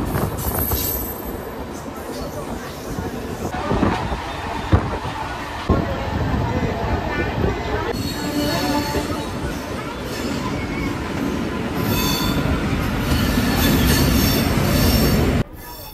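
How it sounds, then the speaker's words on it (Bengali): A local train pulls into Bhubaneswar station in Odisha on the Howrah to Puri line, with a steady rolling rumble, wheel squeal and carriage noise, a couple of sharp knocks, and faint voices underneath. "আমাদের ট্রেন এই মুহূর্তে এসে পৌঁছালো উড়িষ্যা রাজ্যের ক্যাপিটাল ভুবনেশ্বরে"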